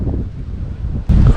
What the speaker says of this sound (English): Oh my goodness, it's so windy.